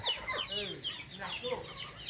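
Chickens cluck and chatter continuously at close range, busy overlapping calls with some brief squawks, with no other sounds standing out.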